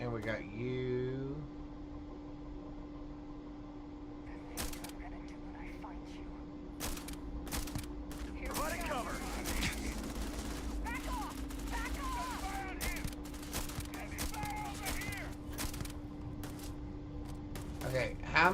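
Gunfire in the Starfield video game, with several sharp bursts and single shots scattered over a steady mechanical hum and interleaved with talking voices.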